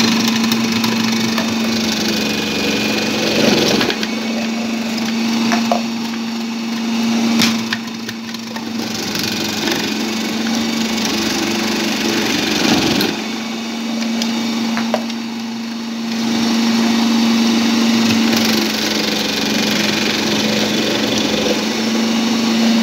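A Walita Master Pro RI7746 food processor fitted with its blade runs with a steady, loud motor whine that holds through the whole stretch with slight dips and no talking.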